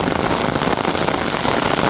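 Steady rain falls in a lychee orchard during picking, a loud continuous wash of pattering close by with some gusty rumble, as if heard from beneath an umbrella, and no voices.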